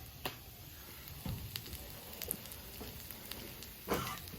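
Hash browns sizzle steadily on an oiled flat top grill, a soft continuous crackle marked by a few sharper pops and scraping taps.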